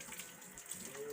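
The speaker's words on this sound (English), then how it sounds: "I'm just going to use some tap water like we do at school." Tap water runs steadily from a kitchen faucet, a soft continuous hiss and splash, quiet and close, with no talk over it.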